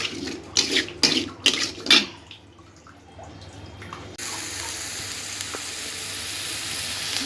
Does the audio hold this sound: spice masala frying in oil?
yes